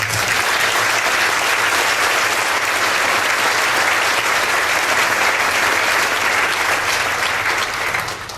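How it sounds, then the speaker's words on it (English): Loud, dense applause from a crowd at an honors event for Will Weatherford and his family, sustained evenly for several seconds before easing slightly at the end. "How about a round of applause for them?"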